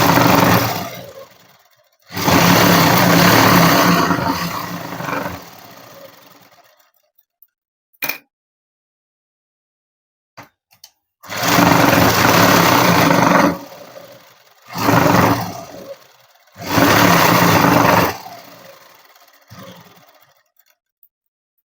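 A sewing machine runs a direct stitch, without hemming, to attach lining to garment sleeves. It comes in several bursts of steady, close whirring separated by short pauses, with no voices.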